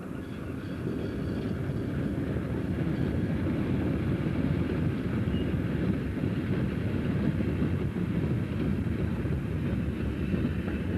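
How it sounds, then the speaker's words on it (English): An eastbound EM1 electric locomotive hauls a scrap train along the Woodhead route, a steady loud rumbling roar of wheels and wagons rolling past with no break throughout. "Notice the number of passengers aboard this eastbound EM1 hauling scrap."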